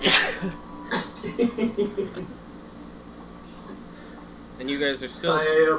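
A single sharp sneeze bursts out at the start, followed by people talking and chuckling during a tabletop Dungeons and Dragons game session.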